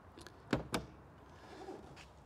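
The front storage compartment door on an off-road camper trailer makes two sharp close knocks as it is handled, then quiet outdoor ambience follows.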